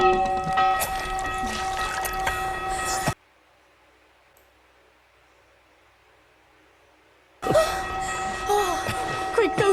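A bell rings continuously in a TV fantasy episode of Rings of Power, with sustained tones under talk and clatter, cutting to silence in the middle before returning loudly.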